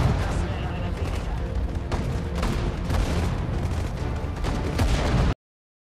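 Booming artillery fire from the World War II strategy game Sudden Strike 4, German campaign in Operation Barbarossa, dense continuous blasts and rumbling explosions filling the scene for about five seconds before cutting to silence.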